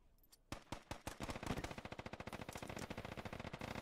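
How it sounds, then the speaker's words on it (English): Sustained automatic gunfire in the Squad video game, a few separate shots followed by a long rapid burst of evenly spaced rounds, loud and close with no talking. "And he just took some fire"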